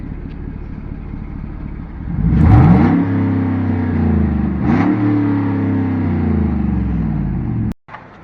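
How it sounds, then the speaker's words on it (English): A pickup or car engine with muffler and catalytic converter removed revs hard twice, a loud raw roar rising and falling over a steady idle rumble, then cutting off abruptly. "Give us a couple revs."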